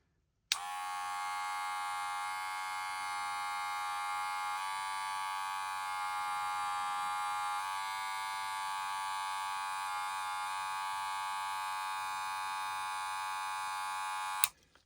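A Wahl Boosted+ Magic Senior brushless hair clipper runs cordless with blades closed, a steady high-pitched electric whine and buzz that holds for about fourteen seconds before switching off, close and even throughout.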